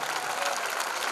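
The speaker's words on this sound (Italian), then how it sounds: "Applauso fortissimo a questi favolosi musicisti" Steady, dense applause from an audience at an evening concert, filling the whole moment with even, continuous clapping and no pause.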